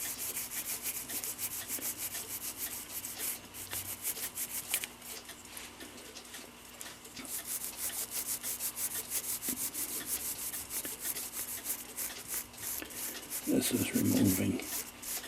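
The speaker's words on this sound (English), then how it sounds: "I just scrub the daylights out of it" Brisk scrubbing of dirt and corrosion off Seth Thomas mantel clock parts, a close, rapid rasping brush rhythm that pauses briefly midway, with a short spoken remark and a louder clatter near the end.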